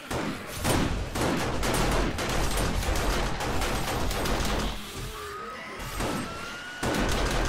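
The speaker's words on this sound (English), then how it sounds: "I just shot 100 bullets." Dense, continuous gunfire fills a chaotic horde night in the zombie survival game 7 Days to Die, loud bursts and crashes running almost without pause, easing briefly before resuming.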